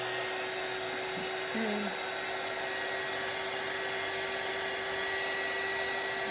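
Heat gun blowing hot air over a seascape craft piece, a steady close whooshing hum with a faint tonal whine that holds throughout, with a brief murmured word near the start.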